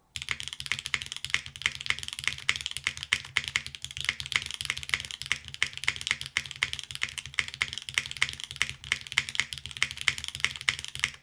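Steady, rapid typing on a Soul 65 mechanical keyboard fitted with an aluminum plate and gaskets, with dense, even clacky keystrokes close up and no talking throughout.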